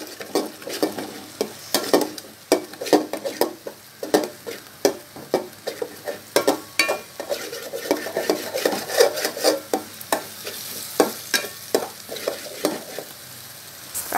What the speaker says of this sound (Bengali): সবজিগুলো একপাশে রেখে আমি 2টা ডিম, ফেটানো ডিম পাশে দিয়ে স্ক্রাম্বল করে নিচ্ছি।